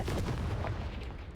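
A Confringo fire spell blasts in Hogwarts Legacy, a dense booming burst that fills the short moment, with another sharp hit near the end.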